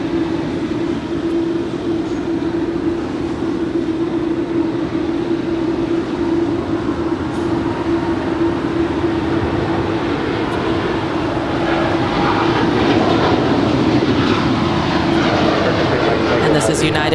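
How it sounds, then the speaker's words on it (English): A United Airlines Boeing 787-9 Dreamliner takes off at LAX, a loud continuous jet roar with a steady whining tone that swells slightly toward the end, heard from a distance outdoors. "this is United Airlines Flight 32 off to Tokyo Narita. 7879 Dreamliner."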